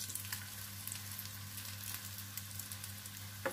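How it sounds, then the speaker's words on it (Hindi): Chana dal tikkis fry in a pan over low heat, making a soft, even sizzle that carries on steadily with no voices. "आप देखिए टिक्की एक तरफ से सिक चुकी है. मैं सारी टिक्कियों को पलट लूँगी"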